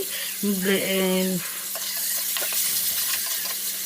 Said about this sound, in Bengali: তো টমেটোটা আমি দিয়ে খুব ভালো মতো কষিয়ে নেব।